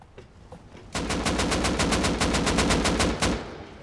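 Video game Rust gunfire: a rapid, evenly spaced burst of about fifteen loud automatic rifle shots from an AK-style weapon, preceded by a few faint distant pops.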